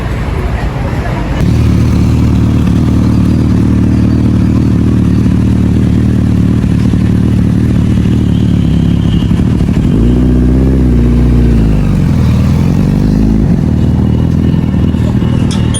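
Kawasaki Ninja Z900 motorcycle engine running steadily and loudly up close, then revving and pulling away with a rising and falling pitch, while people chatter in the background.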